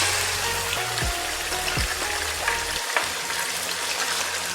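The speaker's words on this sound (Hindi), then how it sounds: "चिकन को जो है फ्राई करना है।" Chicken pieces frying in hot oil with cumin seeds, a close, busy crackling sizzle with a couple of scraping stirs early on, steady throughout with no talking.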